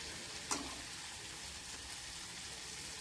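Brinjal and potato frying in masala and oil, a steady soft sizzle held low and even throughout, with one brief clink of a utensil near the start.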